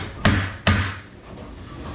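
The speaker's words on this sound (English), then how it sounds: "Just gonna take my hammer, straighten it a little bit." A hammer striking a metal part to straighten it during an AMF bowling cushion block rebuild: two sharp, loud ringing blows about half a second apart, then a quiet workshop background.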